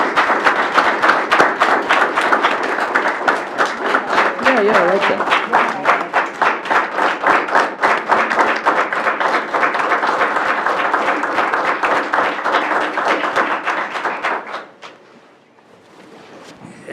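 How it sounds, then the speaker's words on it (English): A meeting audience gives a board member loud, sustained applause with crisp individual claps audible, and a voice speaks briefly partway through before the clapping dies away to near silence. "Let's give her a round of applause."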